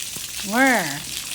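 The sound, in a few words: sautéing beetles in a pan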